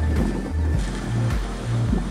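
Shore-break surf on the Sea of Japan on a morning with a light offshore breeze, with waves rolling and crashing in a steady, low, rumbling rhythm and wind buffeting the microphone.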